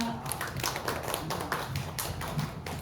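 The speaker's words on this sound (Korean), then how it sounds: "큰 박수로 맞아주시기 바랍니다" At a climate lecture, an audience applauds to welcome the lecturer with a series of moderately loud, irregular claps, and a voice speaks faintly underneath.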